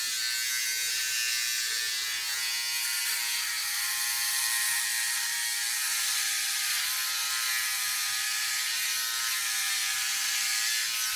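A Philips OneBlade electric razor buzzes steadily and loudly as it shaves through a long beard, a continuous high whir with slight variations in pitch and texture as the blade works, no talking.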